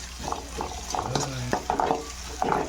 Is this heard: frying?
yes